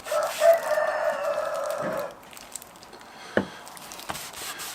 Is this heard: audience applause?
no